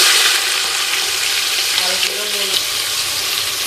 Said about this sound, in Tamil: இப்போ நம்ம ஆனியன் போட்டுக்கலாம்.